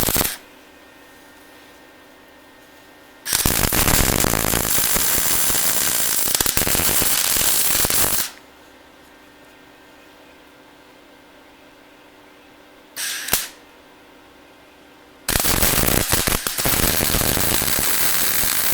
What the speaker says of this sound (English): So now I'm going to do some welding.